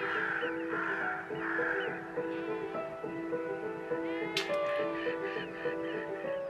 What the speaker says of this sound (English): the hooded crows scratch a living on the shoreline